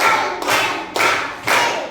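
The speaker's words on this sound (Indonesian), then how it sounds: "Tepuk 1, tepuk 2, tepuk 3, tepuk 4" A classroom group claps in unison on counted beats, three sharp collective claps spaced about half a second apart, close and loud with no talking between them.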